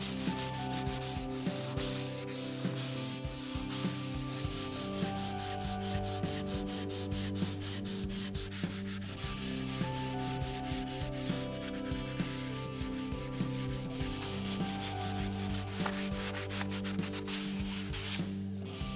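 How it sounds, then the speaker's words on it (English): Steady hand sanding of a Telecaster-style partscaster guitar body with 220 grit sandpaper, continuous rhythmic rubbing strokes close up with no talk. "I am just lightly going over everything with 220 grit to ensure there are no scratches."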